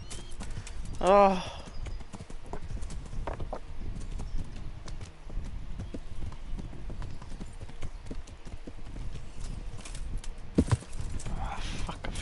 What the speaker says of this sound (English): Oh, damn horses.